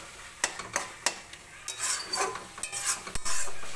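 Katla fish head masala being sautéed in a pan, with a spatula scraping and knocking against the metal in irregular strokes over a soft sizzle, close and clear, with no talking.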